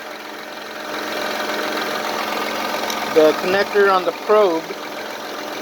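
A 2005 Honda Accord with a 3.0L engine idling, a steady, even mechanical hum heard close, with someone talking over it partway through.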